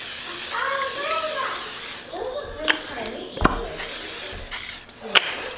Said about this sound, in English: I'm gonna give these another coat of pan spray over the top.